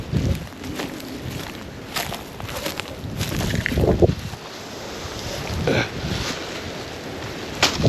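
Outdoor wind gusting and buffeting the microphone, a steady rushing roar with louder swells around mid-clip, heard alone without any voices.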